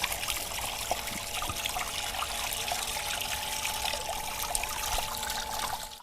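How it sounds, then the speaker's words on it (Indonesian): Water runs steadily from a tap as hands are washed before mixing batter for bakwan fritters, a close continuous trickling splash that lasts several seconds and then stops abruptly, with no talk. "Cuci tangan dulu guys sebelum kita proses bikin adonan"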